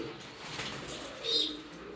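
Pigeons coo softly at feeding time, a low murmuring call with a brief brighter note midway, fairly faint and close, without talk.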